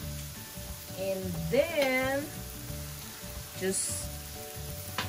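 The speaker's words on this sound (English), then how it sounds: "So we are going to start grilling that." Mushrooms sizzling on a grill during a Labor Day cookout, a soft steady hiss running under a voice and a brief whistle-like tone, fairly quiet throughout.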